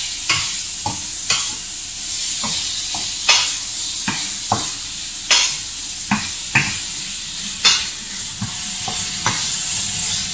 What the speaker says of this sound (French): Et là, on laisse rissoler encore un petit moment.